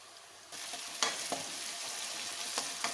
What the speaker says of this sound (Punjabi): ਪਿਆਜ਼ ਨੂੰ ਹੁਣ ਚੰਗੀ ਤਰ੍ਹਾਂ ਜਦ ਤੱਕ ਇਹਦਾ ਹਲਕਾ 골ਡਨ ਜਿਹਾ ਕਲਰ ਨਹੀਂ ਹੋ ਜਾਂਦਾ ਉਨੀ ਦੇਰ ਤੱਕ ਅਸੀਂ ਇਹਨੂੰ ਪਕਾਵਾਂਗੇ